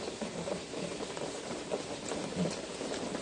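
Rain falling on a greenhouse roof on a rainy day, a steady broadband patter and hiss, close and even throughout with no voices.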